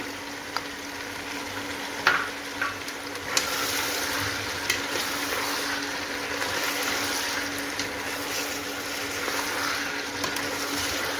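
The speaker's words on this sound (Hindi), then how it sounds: "इसको 3 से 4 मिनट के लिए यूं ही भूनेंगे" Chicken pieces coated in ginger garlic paste and ground green chilli fry in a pan with a steady, loud sizzle, punctuated by a few sharp clinks and stirring scrapes near the start, with no one speaking.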